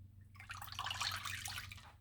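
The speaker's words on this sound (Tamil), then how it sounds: "நம்ம கரைச்சி வச்சுருக்கோம் இல்லைங்களா புளி தண்ணி, இதை சேர்த்துக்கிறேன்." Tamarind water poured into hot sesame oil in a kadai for puliyogare gives a steady, close watery splash and hiss that lasts about two seconds, with no voices.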